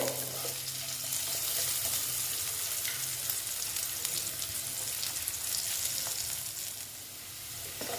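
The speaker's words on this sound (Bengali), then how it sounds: "আলুগুলো ভেজে নিচ্ছি আমি" Potatoes frying together in a pan crackle with a soft, continuous sizzle at low level, easing slightly toward the end, with no voices.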